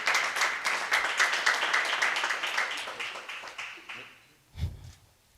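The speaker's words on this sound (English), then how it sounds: "And the audience clapped for her." Audience applause at a Uganda Sign Language graduation ceremony, steady broad clapping that fills the room for about four seconds before tapering off, followed by a short low thump.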